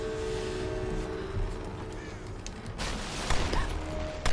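Gunfire in the Tomb Raider video game, sustained rattling shots mixed with game noise and crow-like calls, loud and busy throughout, with a few sharper bursts near the end.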